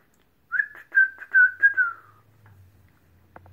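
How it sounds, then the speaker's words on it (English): A person whistles a short, wavering run of about five close, clear notes lasting under two seconds, followed by faint room noise. "Can I whistle?"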